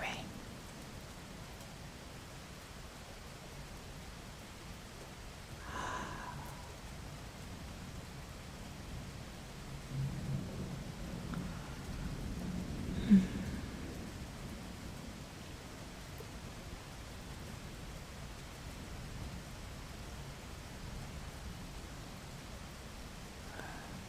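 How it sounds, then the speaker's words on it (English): Steady soft rainfall hisses evenly throughout, with a faint distant rumble of thunder building near the middle, quiet and calm beneath a gentle spoken voice. "Let's listen to the rain."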